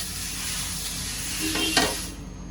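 Constant sizzling hiss on a hot dosa griddle at medium heat, swelling into a louder burst of steam as a wet cloth is pressed down near the end.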